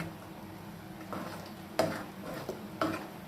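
A spoon stirs an iron-rich dish for children in a pot, giving soft scraping with a few sharp clinks of metal on the pot rim, close and fairly quiet, with no one talking.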